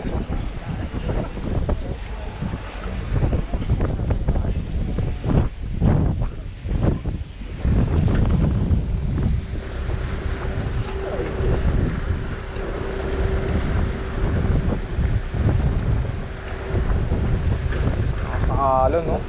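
Sea waves wash around a boat off the coast of Japan, a continuous rushing swell mixed with wind noise on the microphone. Brief voices are heard early on.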